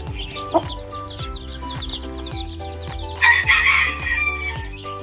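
Gamecock mother hens and their week-old chicks at a poultry pen, with loud, close clucking and crowing over steady chick peeping and a rhythmic background thump, without speech.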